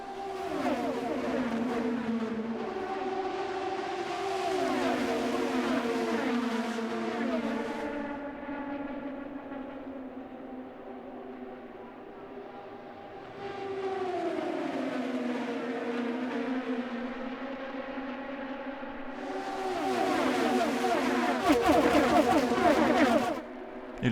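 A pack of IndyCar race cars roars down the back straight of a 1.5-mile oval in a race, engines rising and falling in loud overlapping sweeps as they pass, surging louder again near the end.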